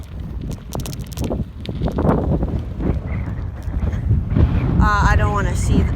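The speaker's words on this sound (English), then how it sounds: "It's a lot more windier today." Strong wind buffets the microphone while cycling with a friend in Hidden Valley, a continuous low roar and rumble, loud and close throughout, with a person talking over it near the end.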